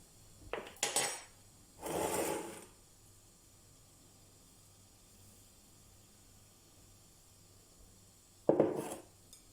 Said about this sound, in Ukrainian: Теж обережно все перемішуємо.